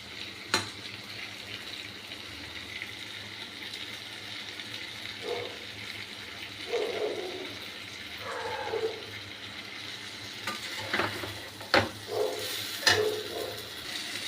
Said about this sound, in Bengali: যা যা দিয়ে ভালো করে মশলার সাথে এটাকে কষাবো